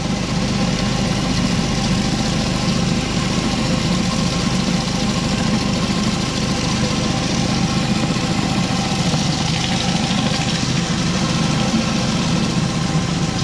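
A pressure washer engine drones steadily and loudly throughout while a surface cleaner works over stamped concrete, a dense, unbroken mechanical roar with a rough idling texture and no pauses.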